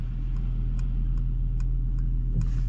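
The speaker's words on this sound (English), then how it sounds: "it's interesting to hear the sound of the engine" The inline-six engine of a 2024 Mercedes S580e in sport mode idles with a low, constant rumble, joined by faint, regularly spaced ticking clicks.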